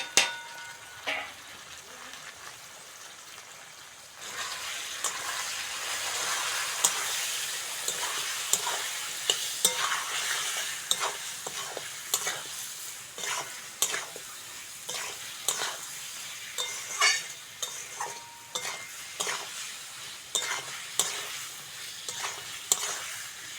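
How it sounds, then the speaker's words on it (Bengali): Potatoes and onion with ginger-garlic paste, turmeric, chilli and salt sizzle steadily in a pan while a spoon stirs and scrapes in frequent, uneven strokes. The frying grows louder after a few seconds and carries on throughout. "মশলাটা ভালো করে কষে নিয়েছি"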